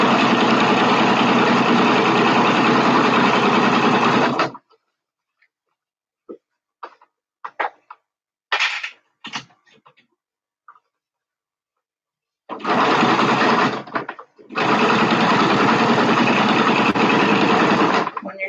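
A sewing machine stitching PUL fabric with a ballpoint needle, running in a long steady whirring burst, pausing for several seconds of quiet handling noises and small clicks, then running again in two more sustained bursts.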